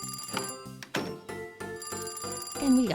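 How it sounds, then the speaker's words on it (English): A telephone rings with repeated electronic bell trills in a steady pattern, loud and close, with no voices over it, in a dog rescue game. "And we got the phone call already."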